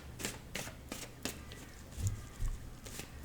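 Tarot cards being shuffled for a daily draw, quiet close-up riffles and flicks arriving in several short bursts with brief pauses between them.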